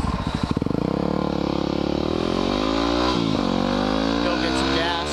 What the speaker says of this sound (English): So the dirt bike is what I'm on.